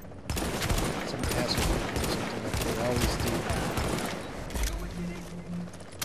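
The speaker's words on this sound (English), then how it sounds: "They're shooting me from far away." Distant enemy gunfire in The Division's Dark Zone, a dense, continuous volley of rifle and automatic shots spread across the whole moment with a busy, crackling texture and a voice speaking over it.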